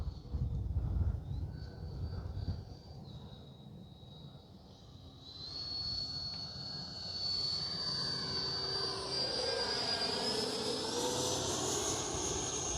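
An E-flite 70mm Viper RC electric ducted-fan jet makes a gear-down pass, its whine rising in pitch and growing louder as it sweeps in from a distance, with no talk.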